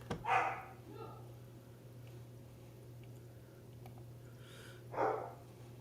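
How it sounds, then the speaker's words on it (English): A dog barks somewhere in the background, with two short bursts near the start and another just after the midpoint. Each burst sounds distant and fairly faint over a steady low hum, and people talk in the room between them. "I don't know if you can hear right now the dog barking in the background"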